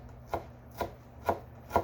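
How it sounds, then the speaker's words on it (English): Knife chopping a bunch of leaves rolled up like a cigar for homemade salsa, four crisp evenly spaced cuts on a board, close and fairly quiet with no talk. "you don't want to chop this too thin"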